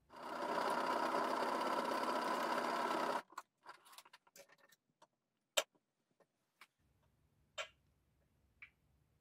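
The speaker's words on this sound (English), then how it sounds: "Sew around the edge of the pocket." A sewing machine stitches around the edge of a jeans pocket bag, running loud and steady for about three seconds before stopping. A few light clicks and handling taps follow in near silence.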